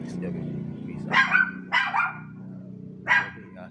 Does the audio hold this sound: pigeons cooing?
no